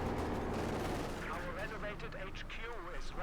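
Machine gun and tank fire in the World War II strategy game Company of Heroes 2, rapid rattling bursts over a dense battle din with a voice talking over it.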